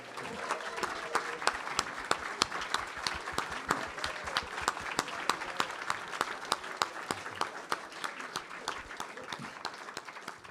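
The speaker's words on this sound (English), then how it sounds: "let's give Paul and Judy a big round of applause" An audience at an artist talk and reading gives sustained applause, a dense, even wash of clapping that holds steady for the whole stretch without talk over it.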